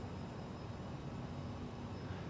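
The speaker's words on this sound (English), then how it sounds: "You can hear the engine spool back up a little bit." An airliner's jet engine spools back up in a flight simulator game on a flight from Washington to Atlanta, a steady, quiet, even engine drone that holds throughout with no talk.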